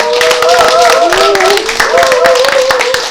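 Audience clapping to welcome the mayor of Gwangmyeong at a residents' lecture on local self-governance, steady brisk applause with a voice speaking over it.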